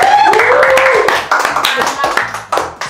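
An audience claps for IT classmates at an event in Indonesia, rapid hand claps over background music, close and loud, with a voice speaking over the applause.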